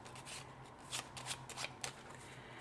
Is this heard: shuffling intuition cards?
yes